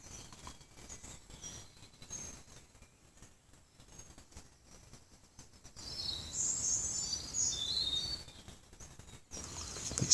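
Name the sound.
birds singing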